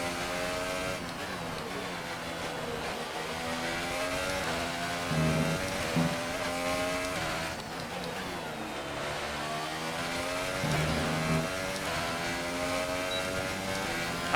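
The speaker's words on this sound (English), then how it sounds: "the sounds are quite nice on this Mercedes engine. Nice upshift sounds. Listen for the downshifts." A Mercedes Formula 1 engine in the F1 2018 racing game revs up and down through repeated gear shifts, with rising whines and a gurgle off throttle, steady and moderately loud.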